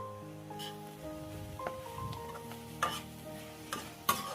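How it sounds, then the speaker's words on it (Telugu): Chopped ponaganti greens frying in a pan, a soft sizzle under intermittent stirring and scraping, with a few sharper clicks of the spoon against the pan; quiet background hum, no talking. "సన్నగా కట్ చేసుకున్న పొనగంట ఆకుకూరని యాడ్ చేసుకొని ఆకులో తడిపోయే వరకు 2 నిమిషాల పాటు వేయించుకోవాలి"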